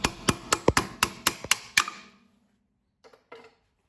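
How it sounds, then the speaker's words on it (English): Eight sharp metallic hammer taps on a rusted Audi brake backing plate strike in quick, even rhythm, close by, followed by silence and a couple of faint clinks. "you have to tap that off with a hammer or the Nipex pliers"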